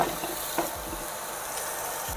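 Carrots tipped into a pot of sweating, translucent onions, giving a soft continuous sizzle with a few faint clinks early on and no voices.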